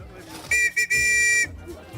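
A handheld whistle blown aboard a boat as it departs toward Dar es Salaam, Tanzania: two loud, steady, shrill blasts close by with a brief break between them, over low background rumble.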